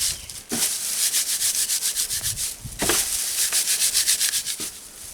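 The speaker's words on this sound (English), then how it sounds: "just take and rub it through your hands" Dried garden seed pods rubbed briskly between the hands, a close, rhythmic dry rasping and crackling that pulses steadily for several seconds with a brief break midway.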